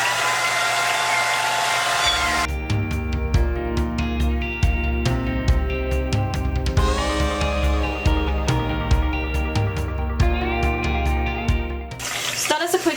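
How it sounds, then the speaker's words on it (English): A hair dryer runs close by while drying a bottle-fed baby kitten, a steady loud whooshing hum broken by rapid clicking taps, with a brief shift near the end. "Quick demonstration of how to use a hairdryer."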